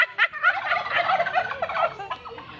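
A turkey at Asilong Farm in Barangay Biasong, Baybay City, Leyte, gobbles in a rapid warbling burst near the listener, followed by shorter gobbles over a faint background.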